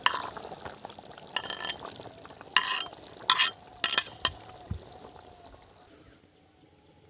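Broccoli tipped into a hot kadai and stirred, with scattered bursts of scraping, clinking and spattering sizzle that fade toward near silence at the end.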